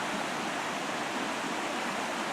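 A creek on the way up Steve Peak flows in a steady, even rush of water, close and continuous with no voices.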